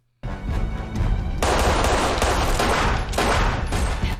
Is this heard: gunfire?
yes